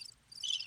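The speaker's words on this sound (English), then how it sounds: "The cricket." A cricket chirps in a high, buzzing burst that swells and thickens toward the end of a short stretch, heard on its own with a quiet low background and no talking.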